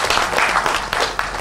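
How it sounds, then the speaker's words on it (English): Brief burst of audience applause at a talk-show style interview session, many hands clapping in a dense, steady wash that swells slightly and fades within about a second and a half. "I think that also needs a round of applause."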